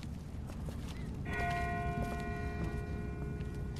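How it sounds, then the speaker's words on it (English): A bell rings from far off in The Walking Dead video game, its sustained ringing tones rising out of a constant low ambient rumble and lingering faint and distant for several seconds. "That's not the same bell as before. This one's further off."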